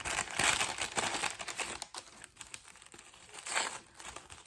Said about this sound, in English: I like the way that she's individually wrapped each one in tissue as well